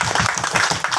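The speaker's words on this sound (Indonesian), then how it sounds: "Tepuk tangan untuk kita semua." Clapping from a gathered audience at an outdoor durian harvest event with local officials, a short burst of loud, close, rhythmic claps in quick succession.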